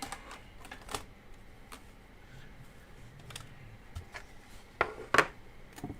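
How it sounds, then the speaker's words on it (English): A computer keyboard is shifted aside on a desk during coin roll hunting, giving faint scattered clicks and soft knocks that build to a couple of louder clattering taps near the end, with no talking. "let me get my keyboard out of the way"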